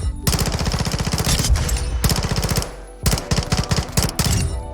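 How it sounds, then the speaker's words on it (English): A PDSW submachine gun fires rapid bursts on a video game firing range, three sustained automatic strings separated by brief pauses, loud and close with no talking. "This is the PDSW in the firing range then."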